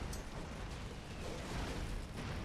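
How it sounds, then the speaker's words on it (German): Dense, continuous rumbling bursts of explosions from a minefield in the video game Broforce, a steady wall of booms and crackle with no clear gaps, fairly quiet overall. "Das sind zu viele Explosionen"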